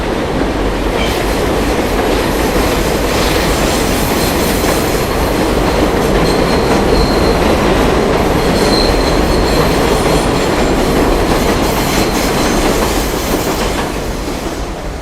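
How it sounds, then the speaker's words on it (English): A New York City subway train rounding a curve in Brooklyn near New Utrecht Avenue, wheels squealing shrilly against the rails over a loud, continuous rumble and clatter that fades slightly toward the end. "Surprised we didn't see any sparks with that subway turning like that."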